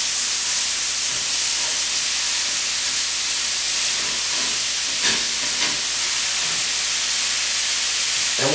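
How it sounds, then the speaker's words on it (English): Ground beef browning in a pan for lasagna, a dense steady sizzling hiss filling the whole stretch, close and even, with a few brief scraping touches and no talk. "we're just going to brown the ground beef"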